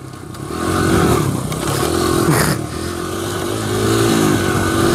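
A 2001 Honda XR100R dirt bike engine drones steadily while riding off-road, rising and holding revs with a brief dip midway, close and continuous with faint clattering underneath.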